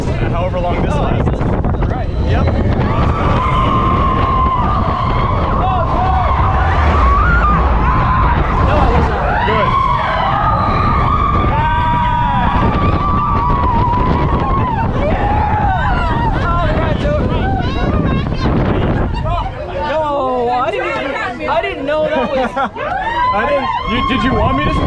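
A ride on the Verbolten roller coaster at Busch Gardens Williamsburg, with loud continuous wind and track rumble, rattling cars and riders shouting and talking throughout.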